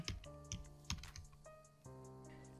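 Typing on a computer keyboard, with a few quiet key taps spaced unevenly over a faint steady hum.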